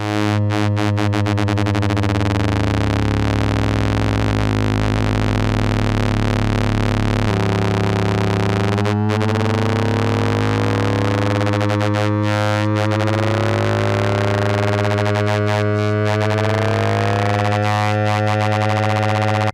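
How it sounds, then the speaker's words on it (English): A steady, buzzy synthesizer saw wave, modulated by a sine wave of almost the same frequency, drones on, its harmonics slowly shifting and sweeping upward as the modulation changes, loud and constant with no other sounds. "Here's a saw modulated with a sine with almost the same frequency."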